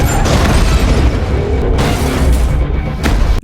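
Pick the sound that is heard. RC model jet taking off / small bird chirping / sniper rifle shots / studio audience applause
sniper rifle shots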